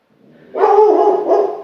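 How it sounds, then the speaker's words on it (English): A dog barks near the front of the house, two close, loud barks in quick succession, the first longer than the second. "Dog's walking by the front."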